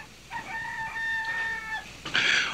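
A rooster crows once, loud and fairly close, its long strained call rising and falling, then a harsher squawk at the end.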